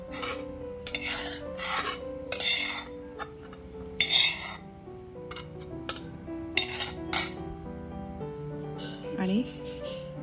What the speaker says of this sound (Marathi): आणि परत थोडं एकजीव होईपर्यंत दुधामध्ये मिक्स करायचं सगळं